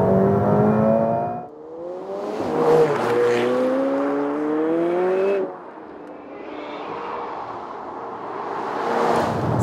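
A 2019 McLaren 720S Spider accelerates hard, its loud engine climbing through rising revs with quick gear changes that drop and restart the pitch, close and without talk.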